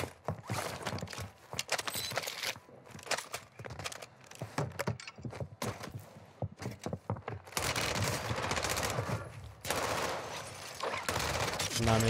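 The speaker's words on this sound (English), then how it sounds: "I'm not meaning to shoot that ammo box, but hey." Rapid bursts of automatic gunfire in a first-person shooter video game, loud and close, with dense rattling volleys and short pauses between them, plus faint talk underneath.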